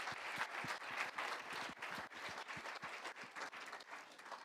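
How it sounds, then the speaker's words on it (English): An audience claps steadily at an award ceremony, a dense, even applause that holds for several seconds without fading, with no voices over it. "Yeah, big applause."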